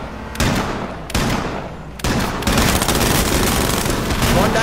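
Loud, dense video game gunfire fills the whole stretch, with bursts of rapid automatic shots and heavy booms that start, drop off briefly and resume, building into a continuous barrage.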